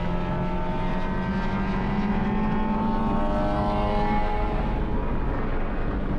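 A race car driving at speed down the front straight of the Outer Loop at Utah Motorsports Campus, a loud continuous engine drone with a steady pitch filling the whole stretch, no talking.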